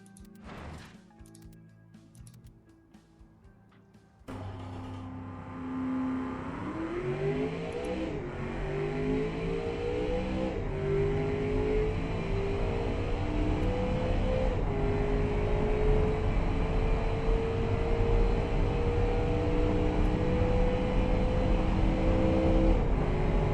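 A 1994 mid-engined supercar in the Automation game accelerates hard through the gears, its engine note climbing in steady rising sweeps with brief dips at each shift, loud and continuous after a short noisy start.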